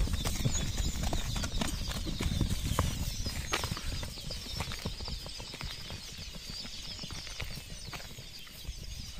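Horse hooves clip-clop steadily in a rapid rhythm, close by and fairly loud, over a busy outdoor background with occasional bird sounds and no clear talk.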